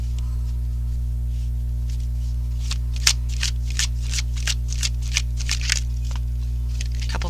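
Tarot cards being shuffled and drawn by hand, a string of sharp flicking riffles over a steady low electrical hum, close and without speech.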